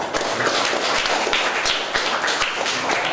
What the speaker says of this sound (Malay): bagi tepukan sikit